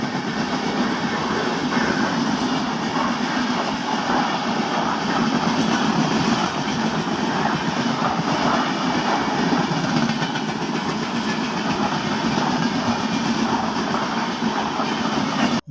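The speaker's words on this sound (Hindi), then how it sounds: "एक ट्रेन जाने वाला है" A train at a railway station in India rumbles and drones steadily and fairly loud throughout, with a continuous engine and rail noise and faint clatter, no talking.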